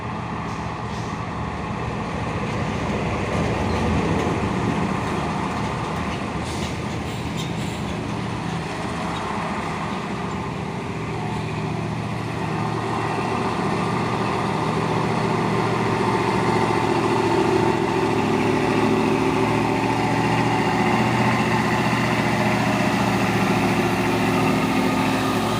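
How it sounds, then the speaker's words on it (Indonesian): Engines of an ADL bus and a Panther truck rumble together, a continuous low droning idle that swells slightly as the vehicles move, steady and fairly close with no voices. "ADL dan truk Panther."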